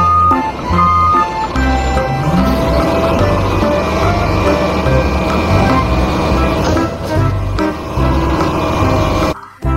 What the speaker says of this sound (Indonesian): Yang ini ada mobil truk pengangkut sampah.